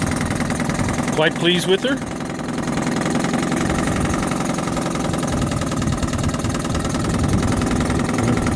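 A 1967 Johnson 3hp Folder outboard motor idles low and steady the whole time with an even, buzzing putter, while someone speaks briefly over it.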